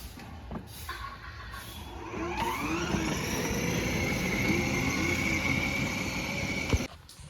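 A motor vehicle starts up and pulls away, the engine rising into a steady rumble and whine with a shifting pitch and a sharp clunk near the end, a few faint voices underneath.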